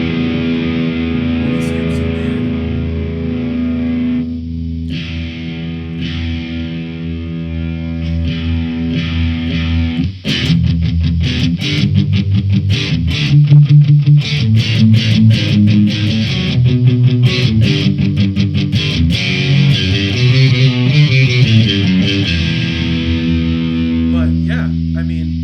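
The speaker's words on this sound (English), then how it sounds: "I can crank the gain on it and almost get the traditional Metalzone sound." Guitar played through a Boss Metalzone distortion pedal into a Crate amp with the gain cranked, first sustained chords, then busy fast riffing, loud, thick and buzzy throughout, with no speaking over it.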